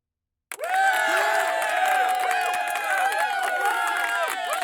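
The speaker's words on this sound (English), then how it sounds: "A little cheer." A small crowd at a ReaperCon gathering gives a brief cheer that starts abruptly after a moment of silence and carries on as a dense, excited mix of overlapping voices.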